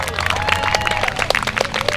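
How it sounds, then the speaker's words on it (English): A crowd at a higher-education day-of-action rally claps steadily, with dense, loud applause and scattered cheers continuing throughout. "One more round of applause."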